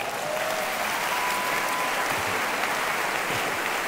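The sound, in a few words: church congregation applauding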